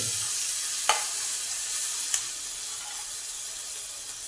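Wet washed moong beans hit a hot pan in a home kitchen, setting off a steady bright sizzle and hiss with a couple of light clicks from stirring, close and continuous.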